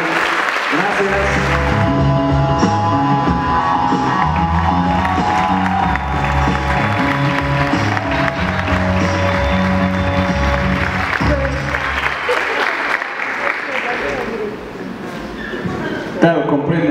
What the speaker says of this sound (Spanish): Un fuerte aplauso para Juan Curiel, por favor.